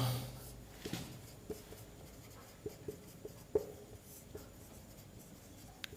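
Faint, sparse scratches and taps of writing on a board during an electrostatics lecture, a few short strokes spaced irregularly over a quiet room tone, with no voice.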